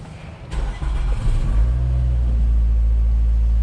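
A 2009 Nissan Altima engine, just repaired after a misfire, starts and settles into a steady, loud, close idle with a smooth low rumble and no talking.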